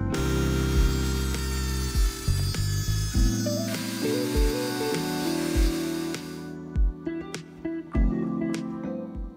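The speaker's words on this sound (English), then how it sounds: "I decided to cut off some of the excess axle shaft using a rotary tool" A rotary tool cuts off excess threaded axle shaft on a 3D-printed 1/24 scale RC drag car chassis, a loud continuous whining buzz whose pitch shifts in steps. It breaks into short stuttering bursts near the end.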